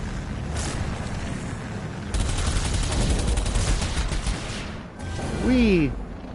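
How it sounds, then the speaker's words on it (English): Rapid machine gun fire from the medieval shooter Doom The Dark Ages, a dense continuous barrage lasting several seconds, followed by a rising and falling whooshing sweep, with a voice chiming in briefly. "Like you said, machine gun."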